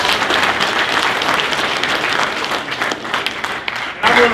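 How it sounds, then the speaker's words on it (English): Audience applause at a student welding expo day in Arkansas, a loud, dense crowd clapping that holds steady throughout, then swells again briefly at the very end. "Please give him a round of applause."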